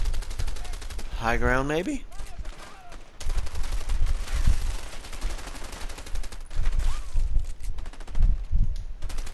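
Rapid bursts of gunfire from the A Way Out video game crack repeatedly across the clip, some volleys clustered like automatic fire, loud and close, while someone speaks briefly over the shooting.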